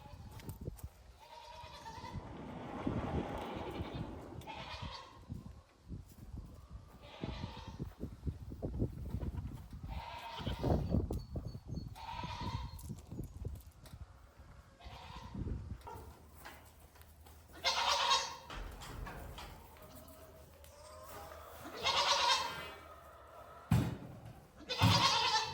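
Goats bleat outdoors around a farm, with repeated calls from several animals, some close and loud, others fainter, over a background of scuffling and movement.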